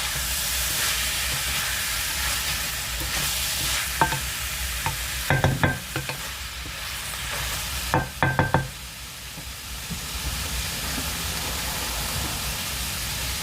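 Ackee being stirred into smoked salmon fried rice in a hot pan: steady sizzle throughout, with bursts of spoon scraping and clinks against the pan, clustered near the middle and again a little later. No talking.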